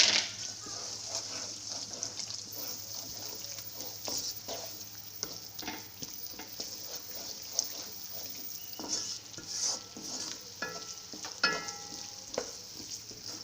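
Chopped tomato dropped into a sizzling pan of frying kari pakora base and stirred, a steady close hiss with scraping spoon strokes and clinks of utensils against the pot throughout.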